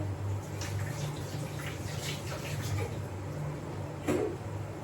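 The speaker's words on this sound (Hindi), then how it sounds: "उससे पहले हाथ धोएंगे" Hands being washed under a running tap, with a steady wash of flowing water and a few faint splashes, close and moderately loud, alone without talk.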